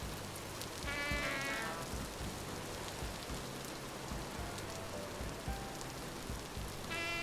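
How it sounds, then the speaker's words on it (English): Steady rain hisses across a video game wilderness for the whole stretch, with bleating animal-like calls rising briefly near the start and again at the very end, and no talking. "Okay, so now there's no rain on..."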